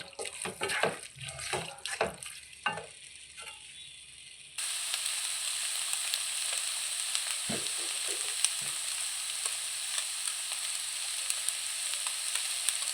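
Mutton blood with egg fries in a pan and is stirred, with scraping clatter and bursts of stirring early on, then a steady loud sizzle with occasional spatula knocks and no talking.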